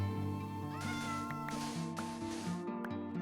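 Cats in the video game Minecraft meow several times over steady, tonal in-game music, the mews short and fairly soft, rising above the background every half second or so.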